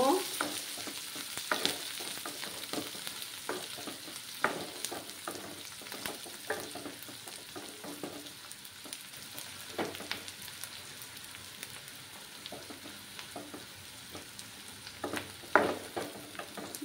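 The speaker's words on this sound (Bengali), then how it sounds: "একটু লাল লাল করে পেঁয়াজগুলো ভাজতে হবে।" Onions frying for a coconut milk fish curry on low heat, with a steady sizzle under repeated scraping strokes of a spoon, close by and fairly loud.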